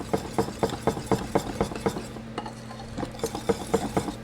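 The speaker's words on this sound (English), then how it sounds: "And whisk that in there really well." Cornbread batter is whisked in a bowl with steady, rhythmic scraping strokes, roughly four per second. The sound is close and moderately loud, pauses briefly partway through, then picks up again, with no voices.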